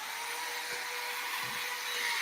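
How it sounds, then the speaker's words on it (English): A small electric blower whirs in a steady, close, high-pitched hiss, aimed at chasing off a mosquito, holding an even level for the whole stretch. "we got a skeeter. My skeeter blower. Watch this."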